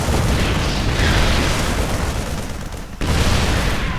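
Sieged tanks pounding supply depots in StarCraft II, a dense continuous barrage of booming cannon blasts layered with explosions, loud and unbroken apart from a brief dip near the end.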